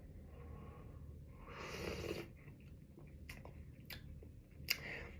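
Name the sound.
slurping a hot drink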